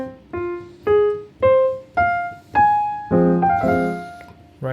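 Piano states the opening exposition theme of Beethoven's Piano Sonata No. 1, first movement: a rising series of crisp, detached single notes, then a fuller chord passage, played solo and close with clear decays.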